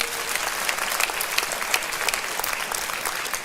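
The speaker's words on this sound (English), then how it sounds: "Round of applause for them." Steady applause from a crowd at a political rally, a dense patter of many hands clapping continuously without a break.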